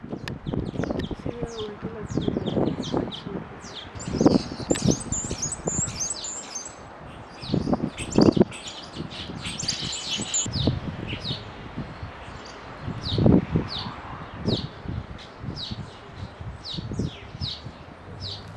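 Dense, busy chirping and twittering from a large flock of Cape weaver birds in South Africa's Western Cape, continuous throughout, with some low rustling and rumbling underneath.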